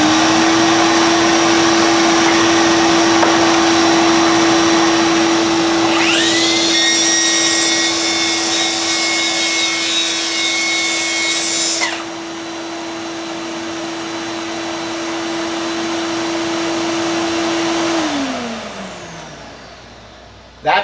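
A Milwaukee 2831 cordless track saw cutting a 3/4-inch board, with a dust extractor humming steadily throughout; the saw whirs up partway in, cuts loudly for several seconds, then stops, and the extractor winds down at the end.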